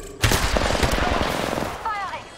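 Rapid automatic gunfire in the battle royale game Apex Legends: a close, loud burst of fast repeated shots lasting over a second, followed by a brief electronic chirp as it stops, with faint voice underneath.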